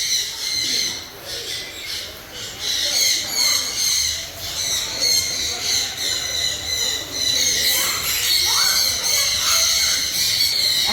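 Birds call in a park at a hill-style picnic spot, giving sharp squawks and squeals that repeat through the whole stretch, fairly close and loud, with voices of visitors faintly underneath.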